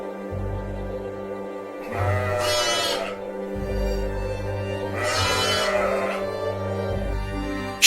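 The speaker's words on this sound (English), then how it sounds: "Sheep appear in large groups, their thick wool coats colored white or pale cream." Sheep bleat on a snow-covered winter farm pasture, with two long, loud calls a few seconds apart over steady low background rumble; no one speaks.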